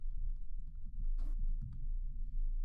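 Computer keyboard typing a command, a short run of light clicks over a steady low hum, with one louder keystroke, close and quiet.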